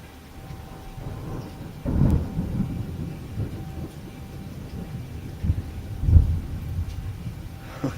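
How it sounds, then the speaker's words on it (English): Two deep, booming rumbles of thunder from close lightning strikes during a cold-weather thunderstorm, rolling out over steady rain, the second peaking louder near the end. "man, there's another close strike."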